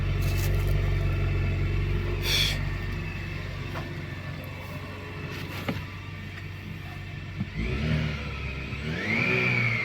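A car engine idles steadily during a diagnostic check after an actuator is disconnected and reconnected, then revs up and settles back down near the end, close and continuous with no talking.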